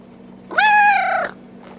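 A cat lets out a single clear, drawn-out meow at close range, loud and tonal for under a second, against a quiet room hum.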